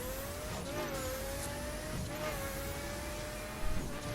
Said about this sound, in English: 808 brake horsepower, Pagani Huayra.